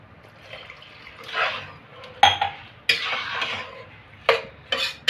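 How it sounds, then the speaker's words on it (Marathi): Water is poured into a pot of rice and dal for dal khichdi, a soft splashing wash amid scattered metallic knocks and clinks from the pot and utensil, close by and with no talk. "बघा आता ह्यामध्ये मी पाणी ॲड करणार आहे."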